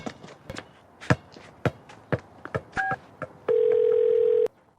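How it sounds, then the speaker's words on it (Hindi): A telephone call being placed: a run of sharp tapping and keypad-like clicks with a couple of brief tones, then a loud, steady ringback-style tone held for about a second. "मैं अभी उसी को फोन करता पूछो तो पता चल जाएगा।"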